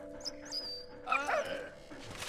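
A dog in the World War I video game Valiant Hearts gives a few short, high whimpering yips and whines over a quiet game background, with one brighter burst partway through.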